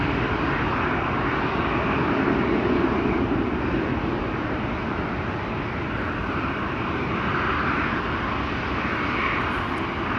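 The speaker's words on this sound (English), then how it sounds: "Air France Bombardier C-Series as well." Air France Bombardier C-Series jet at Amsterdam Schiphol Airport, a continuous broadband engine roar with no breaks, heard from a distance across the airfield.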